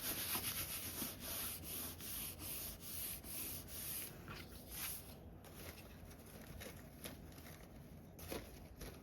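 A glue eraser rubs back and forth over cardstock to lift leftover glue, quick rhythmic scrubbing strokes up close, busiest in the first half, then slower and softer.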